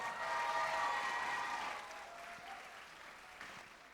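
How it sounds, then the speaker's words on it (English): Audience applause for a live band of current and former music educators and Pasco County employees at a steampunk musical's opening night, a dense wash of clapping that is loudest at first and then gradually thins and fades. "let's give them a big round of applause"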